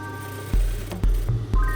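A sewing machine stitches a seam in a linen slip dress, its low motor thrumming in short close bursts.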